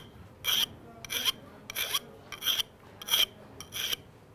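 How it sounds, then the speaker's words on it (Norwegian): A hand file rasps across the cut end of 15 mm copper pipe, deburring it in six even strokes about every 0.6 seconds, close and fairly loud with quiet gaps between. "Så derfor så kan det være like greit å bruke en vanlig fil til å ta de graderne."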